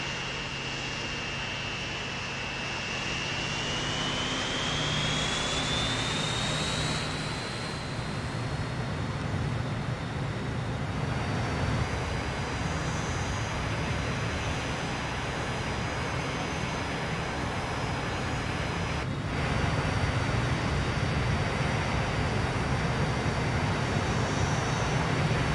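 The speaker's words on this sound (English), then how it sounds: "Yep, it's got a pair of jet engines on top." In the Transport Fever 2 video game, an airliner with two jet engines mounted on top gives a steady, sustained engine roar with a faint rising whine, continuous and even throughout without speech.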